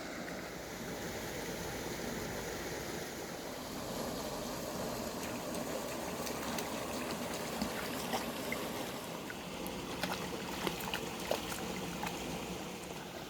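Steady broadband rush of a stream flowing near the fairy bridge, a continuous close wash of water with faint scattered clicks and splashes and no voices.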